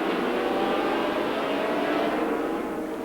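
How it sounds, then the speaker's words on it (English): 350cc racing motorcycles at the 1980 Sandown round of the Australian road racing championship give a loud, steady, high-revving engine roar as they wind up through the gears, with no break in the sound. "Now heading up the back straight, winding it out through the gears"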